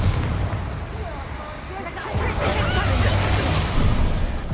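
Spell blasts in Hogwarts Legacy produce a dense, roaring wash of crashes and bursts that builds and stays loud. Game music and voices run underneath the explosions.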